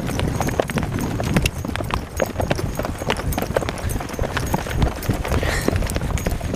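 Horse hooves trotting on a ranch trail: a steady, close, rapid clip-clop rhythm continues throughout over wind and outdoor noise.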